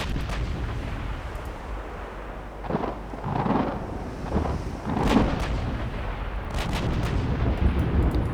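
Naval guns thunder in the warship battle game Ultimate Admiral Dreadnoughts, several heavy, rumbling booms rolling out one after another over a constant low background roar.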